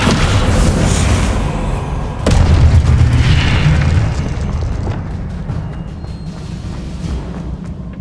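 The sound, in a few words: spell explosion in Hogwarts Legacy video game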